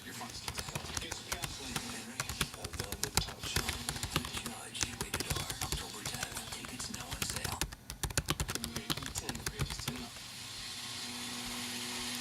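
Rapid clattering keystrokes on a computer keyboard go on nearly throughout, with dense irregular taps over a faint background and what sounds like talk mixed in, ending in a steady hiss.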